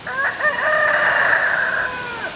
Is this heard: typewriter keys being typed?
no